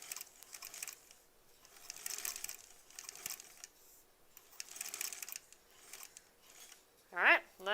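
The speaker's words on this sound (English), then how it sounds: "Alright, let's snip." Scissors snip thread during quilt block sewing, giving a few quick, close, quiet snips among soft rustling and sewing-machine sounds, with a short squeak near the end.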